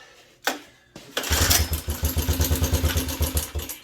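A revived Suzuki LT125 ATV engine gives a couple of short cranking attempts, then catches and runs with a loud, rhythmic single-cylinder putter that pulses steadily close by.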